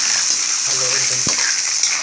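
Mussels being stirred into a simmering pot of shrimp and mussel seafood soup, giving a steady close bubbling sizzle with one short knock of the spoon near the end.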